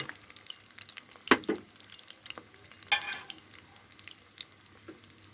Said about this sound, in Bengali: দিয়ে দিচ্ছি চিজ বড়া